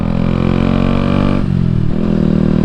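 A Yamaha MT 125 motorcycle fitted with an aftermarket Akrapovic-style exhaust revs up close and loud, holding a raspy buzzing drone, briefly dipping midway and then picking back up.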